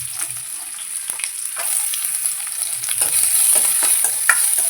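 Onion sautéing with crushed garlic and curry leaves after a vadagam tempering for a fish kuzhambu, a steady crackling sizzle with occasional stirring scrapes, growing slightly louder toward the end.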